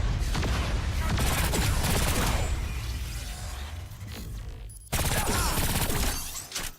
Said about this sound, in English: her gun seems to cut through the enemies rather nicely